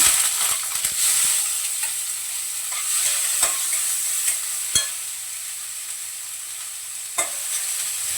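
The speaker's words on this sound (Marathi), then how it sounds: "दोन मिरच्या तोडून टाकल्या आणि कांदा टाकते परतायला" Sliced onion and broken green chillies sauté in a generous pour of hot oil for paneer bhurji, a continuous close sizzle broken by occasional sharp spatula scrapes and taps against the pan, with no talking.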